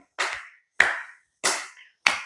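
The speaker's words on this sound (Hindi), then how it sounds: "आप इस तरह से ताली बजाइए" Four firm hand claps done as an exercise, evenly spaced about two-thirds of a second apart, close and crisp with no other sound between.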